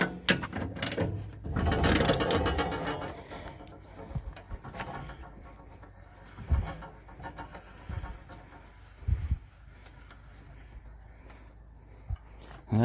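Blade tension on a Woodmizer LX50 sawmill is cranked down by hand, giving a burst of quick ratcheting clicks followed by scattered metallic clunks and turns, close and fairly quiet.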